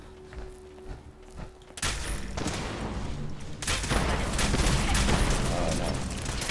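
Rapid bursts of gunfire from a video game weapon with a red effect, loud and dense, starting abruptly after a quiet opening and continuing as sustained rattling fire with booms.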